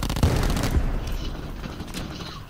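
Rapid automatic gunfire in a Call of Duty style shooter game, a loud dense burst of shots that trails off into echoing reverberation within a couple of seconds.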